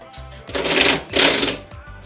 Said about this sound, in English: So I'm cutting them down with the bandsaw